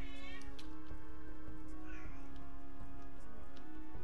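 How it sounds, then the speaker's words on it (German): A pet cat meows, with a few short, plaintive cries heard close by over a steady hum of background music. "Und meine Katze kommt jammern."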